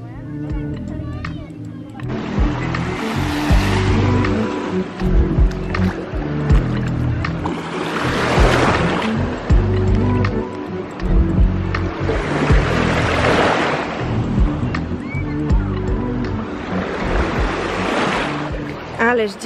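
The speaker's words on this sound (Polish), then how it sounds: "dotarliśmy na plażę i dzisiaj odpoczywamy w takim pięknym miejscu, czyli Lido Cumea" Waves washing in on the beach at Lido Cumea in Italy, a steady roar of surf that swells into several broad surges while people talk over it.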